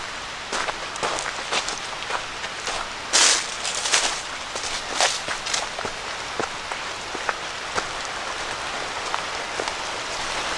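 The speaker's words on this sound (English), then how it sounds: "Got a nice little drizzle of rain coming down too" Light drizzle patters on leaves and ground in the woods along the Horseshoe Trail. Soft, steady dripping comes with scattered sharper drops and occasional footsteps on the path.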